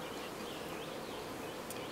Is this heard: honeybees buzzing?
yes